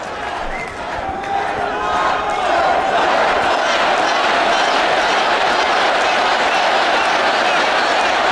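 A large rally crowd chants rhythmically in unison, a loud, sustained roar of many voices that swells and stays full, with cheering mixed in.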